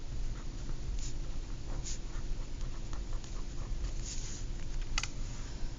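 Pen strokes on paper or a board during a geometry lesson, soft scratchy scribbles in short bursts over steady background hiss, near and fairly quiet, with no talking.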